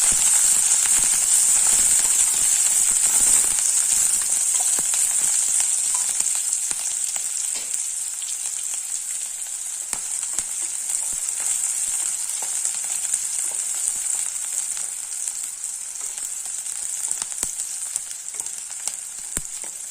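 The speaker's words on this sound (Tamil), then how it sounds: "நம்ம இப்போ இதில் வெங்காயத்தையும் பச்சை மிளகாயும் சேர்க்குறோம்" Onions and green chillies sauté in hot oil with a steady, close, loud sizzle that runs unbroken throughout, with faint stirring scrapes now and then.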